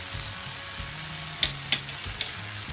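Sweet corn with ginger, salt and Kashmiri red chili sizzling in a pan as it is stirred, a close steady fry with a few sharp scrapes and knocks of the spoon against the pan, no voices.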